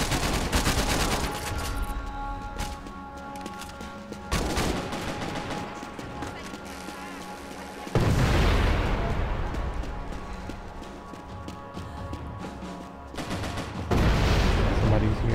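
Pistol gunfire in Max Payne 3 multiplayer on PC, sharp repeated shots in irregular bursts with louder volleys near the middle and end, backed by dense game noise and no talk.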